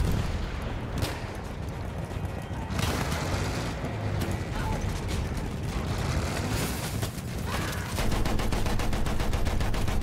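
Gunfire aimed at a tank in the Battlefield 1 video game, a dense rumble of battle with rapid machine-gun bursts and rattling shots, heaviest near the end.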